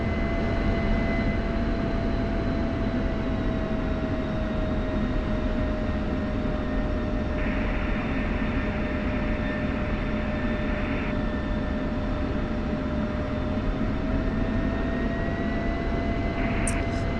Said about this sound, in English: So we're taxiing over to runway